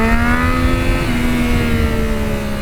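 A Triumph Daytona 955i sport motorcycle revs hard in first gear near 11,500 RPM, a loud sustained high-pitched engine wail with a steady tone, heard up close with nothing else over it.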